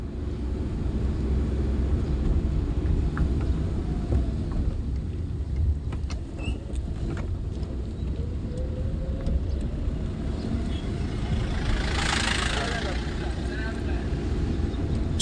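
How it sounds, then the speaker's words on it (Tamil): A vehicle on the steep, narrow Kallatty mountain road in India, heard as a continuous loud, rumbling engine and road noise that stays close throughout, with indistinct voices mixed in. "இந்த வண்டி வருது"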